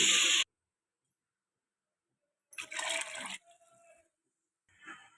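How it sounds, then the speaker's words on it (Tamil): Water is spooned into a cooking pot of vegetable biryani masala in short, close splashes separated by silence. "தண்ணி 2 ஸ்பூன் சேர்த்துக்கலாம்."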